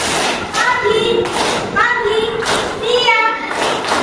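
Schoolchildren in an Islamic education class clap a patterned classroom rhythm in short bursts of claps. Children's voices chant along loudly in a sing-song way between and over the claps.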